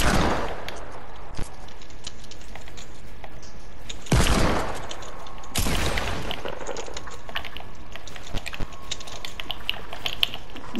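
Gunfire in the video game Fortnite during a build fight, with several sharp shot bursts and a few isolated cracks over steady game background noise, fairly loud and without talk.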